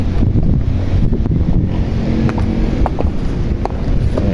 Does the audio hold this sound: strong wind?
yes